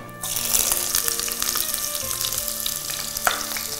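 Onion sizzles loudly in a hot pan with garam masala powder for soya keema fried rice, starting with a sudden burst as it hits the oil and then crackling steadily with occasional stirring.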